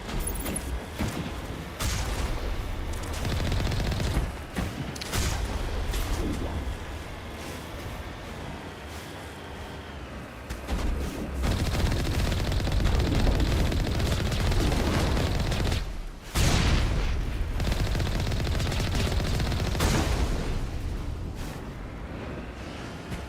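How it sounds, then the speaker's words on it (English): Gunfire in the Mass Effect video game: dense, loud volleys of automatic weapon fire and booming blasts, rattling almost without pause through a long firefight. "let's go shoot him up"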